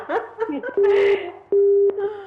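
Telephone busy tone after a call cuts off during a live TV call-in show, two long steady beeps with a short gap, loud and close, following a brief stretch of a man's speech.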